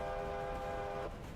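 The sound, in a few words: locomotive whistle in the video game Railroader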